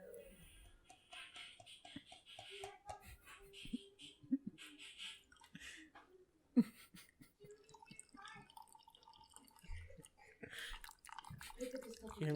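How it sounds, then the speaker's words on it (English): Coffee is poured into a cup up close as a quiet, uneven trickle with small drips, heard softly beneath nearby talking and mouth sounds. "You hear me pouring in the coffee?"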